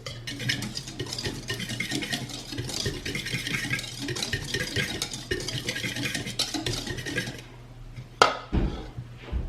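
Brownie batter with unsweetened cocoa powder, baking powder and salt stirred in a bowl, a continuous close scraping and swishing of the utensil for several seconds, ending in a couple of sharp knocks against the bowl.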